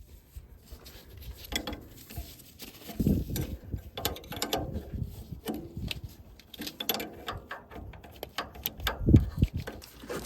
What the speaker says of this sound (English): so I'm gonna tighten this hose, which is running into the front of the T